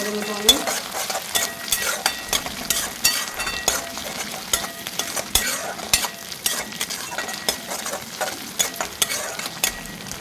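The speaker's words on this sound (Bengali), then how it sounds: "উপকরণগুলো ভালোভাবে মিক্স করে নেব আমি।" Ginger-garlic paste is stirred into a frying potato and pea curry in a kadai. A loud sizzle runs throughout, broken by repeated scraping strokes of a spoon against the pan and occasional light metal clinks.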